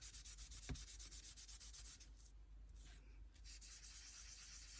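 Soft, steady scrubbing as a paper collage in an art journal is rubbed to lift excess colour, a faint close dry friction repeating in quick strokes with no talk.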